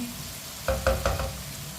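Capsicum (shimla mirch) stir-frying in a pan, a soft sizzle with three or four quick scraping stirs close by.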